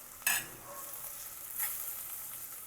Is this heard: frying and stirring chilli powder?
yes